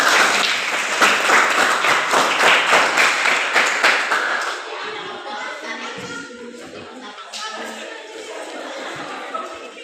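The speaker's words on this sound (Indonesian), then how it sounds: "Ayo kita tepuk tangan dulu untuk kelompok nasionalisme" A classroom of students claps for a group of classmates, the applause dense and steady at first, then fading into scattered chatter and light laughter.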